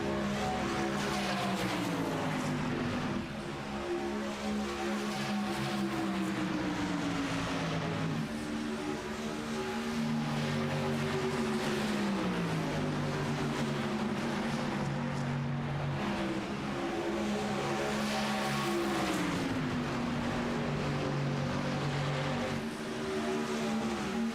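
Race cars in an ARCS series race at Las Vegas drone steadily, pitch climbing and dropping through repeated upshifts as they accelerate around the track. The sound is loud and continuous with no talk over it.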